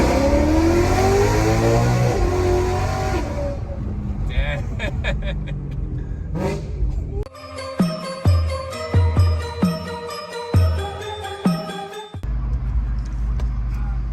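A BMW M3 E90/E92 fitted with Valvetronic midpipes revs its exhaust in a loud series of sharp, close bursts that rise and fall, after people talk at the start.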